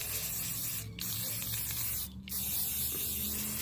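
Gold spray paint hisses onto shelf handles set on styrofoam, a close, continuous spray broken by two brief pauses.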